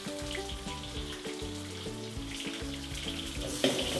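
Green chilli, ginger and garlic frying in a very hot kadai make a steady crackling sizzle with small pops, beneath sustained tonal hums, ending in a louder spatter.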